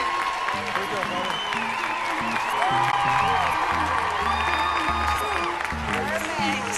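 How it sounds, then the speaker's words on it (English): Big audience at an Emerald City Comic Con panel applauding and cheering throughout, a steady roar of clapping and whoops, with voices mixed in and whistles rising over the crowd. "give one more huge round of applause for Caitriona Balfe and Sam Heughan."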